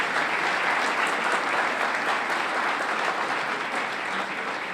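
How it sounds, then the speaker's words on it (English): An audience at an annual meeting and awards celebration claps steadily, a dense, even wash of applause that holds for several seconds without talk. "Please, applause for our community spirit room."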